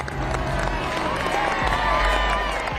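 Crowd murmuring and stirring at the 1988 rollout of the Northrop B-2 bomber from its hangar, a dense, continuous outdoor hubbub with scattered voices and some clapping.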